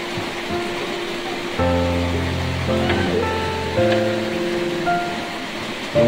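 Heavy rain pours steadily on a mountainside at night, a dense continuous hiss that fills the background from start to finish, with a tonal hum rising partway through.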